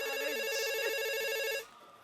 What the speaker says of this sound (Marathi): ताईंचा फोन आहे, मी कशाला उचलू?